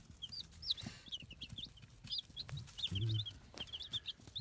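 Baby chicks cheeping in quick, high repeated peeps while eating, with soft pecking taps and a few low clucks underneath, close and fairly quiet.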